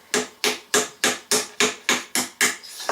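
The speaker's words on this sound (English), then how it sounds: "You can use your little hammer if you wish." A small hammer strikes a penny can stove to punch holes, nine sharp metallic taps at an even rhythm, close and clear with no talking.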